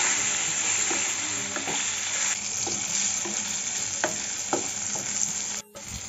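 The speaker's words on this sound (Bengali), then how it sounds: "বেগুনগুলোকে ভেজে নেব।" Salted, turmeric-dusted eggplant slices fry in oil left from frying fish, giving a steady close sizzle with occasional stirring and spatula scrapes against the pan.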